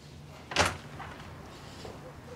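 A door clunks open once, sharp and near, followed by fainter handling noises against a quiet room tone.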